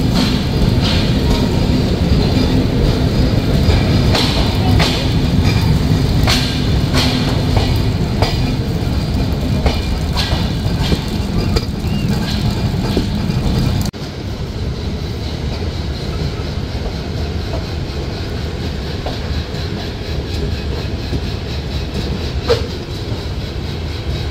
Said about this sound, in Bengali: ট্রেনটি ছেড়ে যাচ্ছে ঢাকার কমলাপুর রেলওয়ে স্টেশন